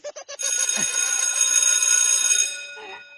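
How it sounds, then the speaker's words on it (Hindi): A phone ringing in a Chhattisgarhi comedy sketch: three short bursts, then a sustained, bright, buzzing electronic ring with steady harmonic tones for about two seconds before it cuts off. No one speaks over it. "अरे फोन आ गया"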